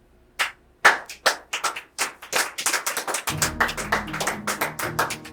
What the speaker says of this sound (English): Yes, clap for the judge,